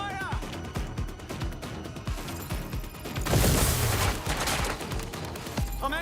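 Gunfire in the video game Watch Dogs: Legion, with repeated sharp shots in quick succession and a louder sustained barrage midway, under game music and effects.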